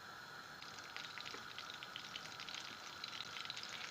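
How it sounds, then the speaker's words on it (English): Spoonful of butter sizzling in a frying pan used earlier to fry paneer, heating for a tadka; a faint, steady crackle and hiss with scattered pops. "Just add in a spoonful of butter."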